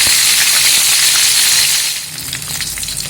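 Chicken 65 frying hard in hot oil over a full flame, a loud, dense, steady sizzle and hiss that eases slightly toward the end, with no talking.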